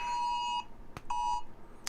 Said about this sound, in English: Amber alert.